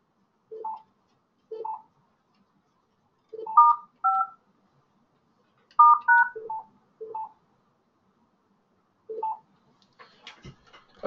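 Telephone keypad dialing tones sound as callers join a conference line, paired beeps repeating in short irregular bursts with quiet gaps, clear and close, ending in faint clicks and line noise.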